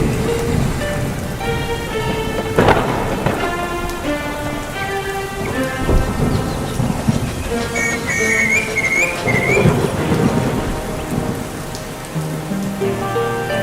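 Steady rain pours down with thunder rumbling, while a light musical tune plays over the storm.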